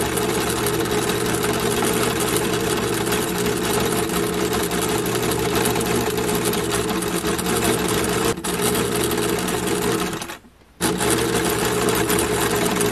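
A sewing machine runs a long gathering stitch along the fabric edge, a steady, close, loud mechanical whir that stops for about half a second near the end, then resumes.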